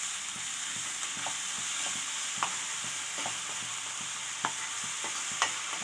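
Watermelon halwa cooking with sugar in a pan, a soft continuous sizzle punctuated by regular spatula scrapes and taps roughly once a second as it is stirred, close by with no talking.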